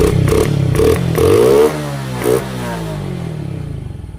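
A Suzuki Raider J 115 Fi motorcycle, serviced for stalling, is cranked several times in short bursts, then catches and revs briefly before settling to a fading idle, close and fairly loud.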